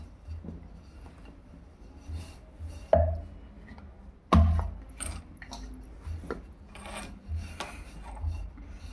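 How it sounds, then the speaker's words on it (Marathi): Puran poli dough being rolled thin with a smooth, ungrooved rolling pin, giving soft rasping rubs with a couple of dull knocks of the pin on the board, close and fairly quiet, with no talking. "पोळी लाटण्यासाठी केव्हाही असं लाटणं घ्यायचं, ते रेषावालं लाटणं घ्यायचं नाही"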